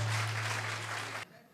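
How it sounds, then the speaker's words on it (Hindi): Audience applause at a cultural programme, a dense wash of clapping filling the room and holding steady before cutting off abruptly near the end, with a low steady hum underneath. "जोरदार तालियां होनी चाहिए"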